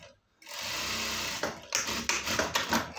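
A sewing machine stitching a pant, starting from silence into a close steady whirring run, then a few short bursts and stops as the fabric is guided.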